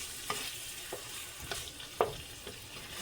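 Vegetables and sweet potato sizzle softly in oil in a pan during meal prep, with a handful of spaced scraping stirs, roughly one every half second, over a faint continuous frying hiss.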